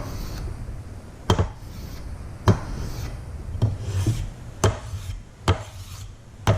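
A Delta planer blade scrapes across a sharpening stone in short, rhythmic rasping strokes, with sharp close knocks recurring about once a second.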